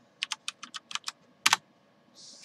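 Keystrokes on a computer keyboard on a Windows XP machine, about a dozen separate close taps in an uneven rhythm, with a short hiss near the end.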